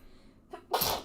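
A single sharp sneeze with a short breathy intake just before it, close and fairly loud, nothing else around it.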